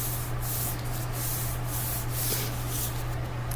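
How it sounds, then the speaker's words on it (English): Paper pieces of a notan collage are rubbed down by hand, making a steady close brushing and scratching with soft rhythmic strokes over a constant low electrical hum. "If you want to, you can flip it over and rub it, give it a good massage."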